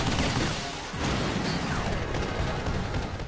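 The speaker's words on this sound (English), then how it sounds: "I think I'm shooting at the wrong things!" Dense, continuous gunfire from the video game Vanquish, with rapid overlapping shots and blasts that fill the whole stretch loudly and without a break.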